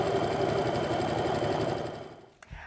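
A sewing machine stitching an apron hem runs in a steady, close mechanical chatter, then slows and stops near the end, followed by a brief soft clunk.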